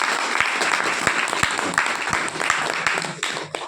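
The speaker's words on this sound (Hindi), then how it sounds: "तो एक बार सर के लिए जोरदार तालियां होना चाहिए।" An audience claps loudly and steadily for the guest who opened a leadership and products training session, a dense wash of hands with sharper individual claps poking through and continuing throughout.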